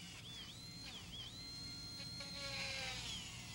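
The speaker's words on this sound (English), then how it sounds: "This is a number 6 round burr, a carbide, and I'll use it to place a few holes in our tray." A number 6 round carbide burr drills holes into a tray, giving a steady high-pitched whine with a shifting tone that dips and rises over a continuous motor hum, close and fairly loud.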